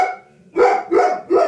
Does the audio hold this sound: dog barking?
yes